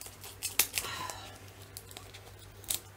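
Scissors cutting into flat-pack cardboard packaging: a few sharp snips and crinkling tears close by, with quiet rustling between cuts over a low steady hum.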